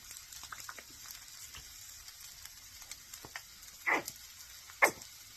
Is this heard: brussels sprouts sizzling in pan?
yes